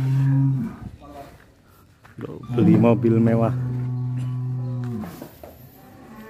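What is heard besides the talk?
large cattle mooing in a barn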